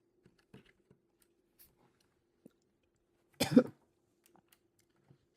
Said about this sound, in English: I'm coughing quite a lot as well